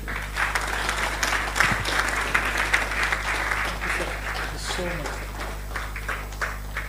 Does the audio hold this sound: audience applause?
yes